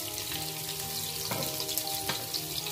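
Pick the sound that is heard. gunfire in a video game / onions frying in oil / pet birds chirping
onions frying in oil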